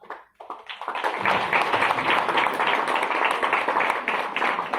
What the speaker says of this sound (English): Let's give a big round of applause to everyone here today